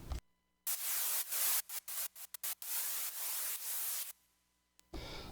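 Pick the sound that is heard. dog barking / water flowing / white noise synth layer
white noise synth layer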